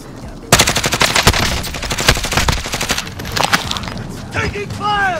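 Rapid automatic gunfire in a Call of Duty Modern Warfare 2019 match, loud dense bursts of shots with a few booms, tapering into scattered pops and ricochet-like whines near the end, with players talking over it.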